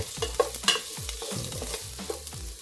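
Onions frying in a hot pan, stirred with a ladle: steady sizzle with repeated scraping strokes and a few clinks of metal, close and alone.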